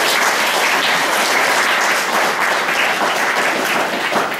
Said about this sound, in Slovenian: Jaz mislim, da bo lahko malo zaploskal.